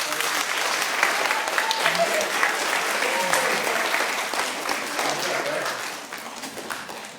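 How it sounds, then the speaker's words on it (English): A school audience gives a dense, sustained round of applause for a panel of high school students; the clapping stays loud and even before easing slightly toward the end. "I would like you to give all of the high school students on this panel a round of applause"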